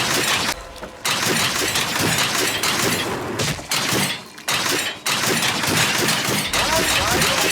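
Loud, dense shattering and crashing bursts from a record gun firing vinyl records in a punk-rock-styled apocalyptic video game, near-continuous chaotic impacts with only brief pauses.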